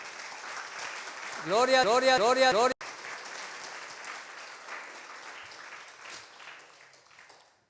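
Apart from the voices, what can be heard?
congregation applauding in church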